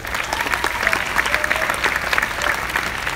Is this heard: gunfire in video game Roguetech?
no